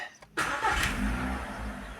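A car engine cranks and catches after an electronic computer reset, starting cleanly with a sharp onset, then settling into a steady idle, close and fairly quiet.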